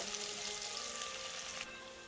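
Curry leaves fry in hot oil with ginger for a green peas, potato and eggplant dish, making a continuous close sizzle that softens slightly partway through.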